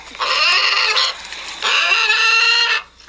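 Two loud, close chicken squawks, harsh drawn-out cackles each lasting about a second, separated by a brief pause.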